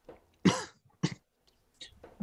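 A man coughs after a mouthful of laced tea: a sharp close cough, then a second shorter one and a faint throat clear, with quiet pauses between.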